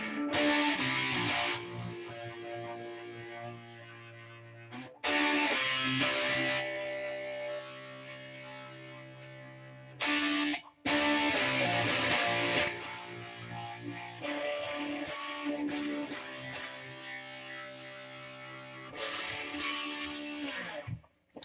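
An electric guitar plays a chorus riff, repeating in several phrases with short breaks between them. Sustained harmonic notes ring out loud and clear, with no voices.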